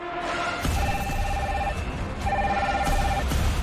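Red telephone on a French reality TV game show ringing in two clear bursts of electronic trilling tones, loud and close over a busy background of studio music and ambience.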